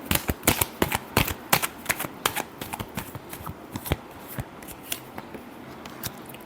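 Tarot cards being shuffled by hand in a close, crisp series of rapid riffling snaps and flutters, with bursts of sharp clicks repeating steadily and no voice over them.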